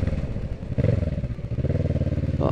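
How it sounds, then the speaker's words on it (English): Kawasaki 650 motorcycle accelerating hard, its engine roaring loud and close with a pulsing, rising drone, a brief drop as it shifts gears, then pulling on again. "Some mad acceleration this bike for a 650."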